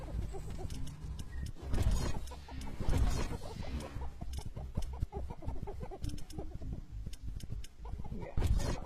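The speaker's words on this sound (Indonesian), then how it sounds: "Suara ayam lagi gimana nih?" Chickens cluck and chatter in a video game, a busy, moderately loud stream of clucks with some clattering noises mixed in and no talk.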